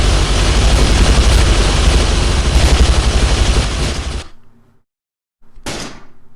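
Placed guns in the Planet Explorers video game firing a dense, continuous barrage of loud rapid shots for about four seconds, then falling silent before a short burst of noise returns.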